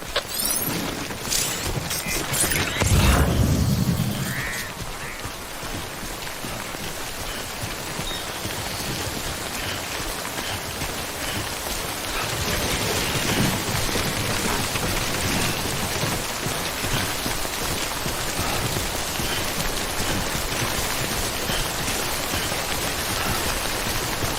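Steady timefall rain from the Death Stranding video game falls in a constant, full hiss, with a brief low rumble near the start and the downpour thickening slightly later on, no voices.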